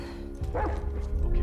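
A single bark from a dog in The Last of Us Part 2 sounds out over a low rumbling background, with faint further yips afterward.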